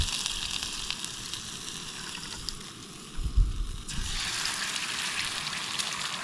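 Beaten eggs seasoned with salt, pepper and herbs frying in oil over a camp stove at a winter wild camp, a steady close sizzle with a brief louder crackle midway.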